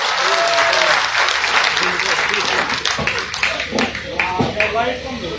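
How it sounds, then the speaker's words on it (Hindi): Crowd applause at an outdoor street-corner campaign rally for a panchayat candidate in a town, loud dense clapping that thins into scattered claps, with voices in the crowd. "भाई के लिए जोरदार तालियां बजा दी।"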